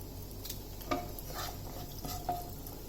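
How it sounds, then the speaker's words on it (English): Fennel seeds and a pinch of asafoetida sizzle softly in hot oil, a faint steady hiss broken by a couple of light stirring clinks, with no voices. "The oil is hot. I've added the somph into it. A little bit of asafoetida, a pinch."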